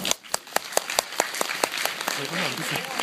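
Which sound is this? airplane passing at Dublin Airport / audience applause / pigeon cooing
audience applause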